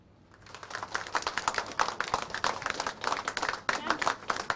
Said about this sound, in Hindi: तालियों की गड़गड़ाहट के साथ हर कोई उनका स्वागत करता हुआ